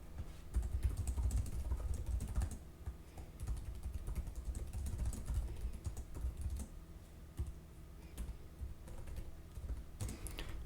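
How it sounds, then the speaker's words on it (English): Rapid typing on the keyboard of a Lenovo Slim Pro 9i 16-inch Intel laptop, a dense, continuous patter of soft key clicks with a few sharper taps, close and quiet, no talk. "let's do a typing test here"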